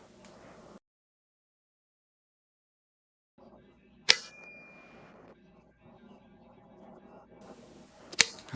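Two sharp, isolated clicks, about four seconds apart, come from a torque screwdriver set to 17 as it tightens the optic mounting screws on a Glock, with a faint low background and a silent gap between them.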